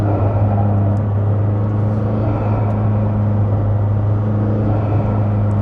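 Engine of a McLaren 600LT while driving, heard as a steady, loud low drone and rumble inside the car, holding a constant pitch throughout with no talking.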